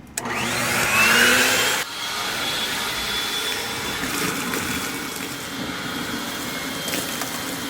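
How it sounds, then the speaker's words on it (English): A pool blower runs loud and steady, forcing water out of the skimmer lines through a Ultra Gizzmo fitting on a pool with a Hayward cartridge filter, with a brief drop in pitch after a couple of seconds and then a continuous roaring rush. "Now it's time to turn on the blower."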